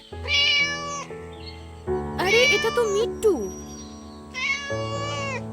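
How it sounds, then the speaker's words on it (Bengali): A cartoon cat meows in clear, drawn-out calls, three separate bursts spread across the clip, loud and close, with a character speaking between them. "দেখো একটা বিড়াল এখানে এসছে।"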